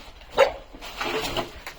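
Dogs bark inside an abandoned building, with one sharp bark standing out early and followed by fainter, scattered yelps and whimpers at moderate distance.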